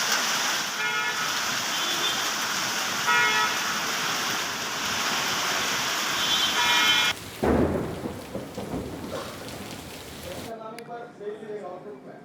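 Heavy rain pouring in Haridwar, a loud steady broadband hiss for several seconds, then a sharp cut to a lower rumbling downpour, with a brief quieter stretch at the end.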